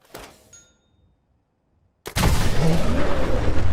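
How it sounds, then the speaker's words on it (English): Fat Man mini-nuke launcher in the Fallout video game: a short clunk, near silence, then a sharp blast swelling into a sustained loud roar. "some of us would rather use babies as Fat Man ammunition"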